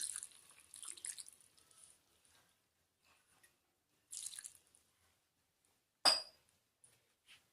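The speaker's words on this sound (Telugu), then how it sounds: "వాటర్ యాడ్ చేస్తున్నాను అండి ఒక గ్లాస్ వాటర్ యాడ్ చేస్తున్నాను" A glass of water poured into a pressure cooker holding palak dal: short splashy trickles, then a sharp metallic clink and a final splash, close and quiet against silence, with no voices.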